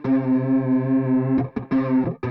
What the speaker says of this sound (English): Power on our delay.